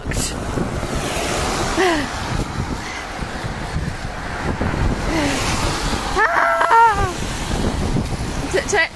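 Strong wind blows outdoors, roaring steadily and buffeting the microphone in gusts, while people's voices come through faintly beneath it.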